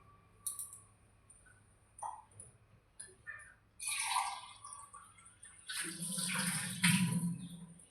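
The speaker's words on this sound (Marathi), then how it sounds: "आता मी पाणी टाकते" Water is poured into a yogurt-mixed dough in short splashing bursts, quiet at first and then a longer, fuller pour near the end, heard up close without speech.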